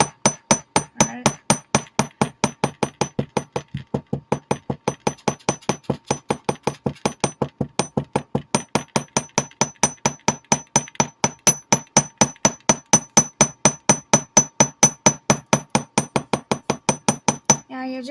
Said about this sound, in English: then I'm going to hammer it like this.